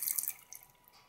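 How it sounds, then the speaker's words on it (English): Tap water runs from a laboratory faucet in a brief, steady hiss and splash, heard on its own without any talking. "Let's get some tap water here, right on video."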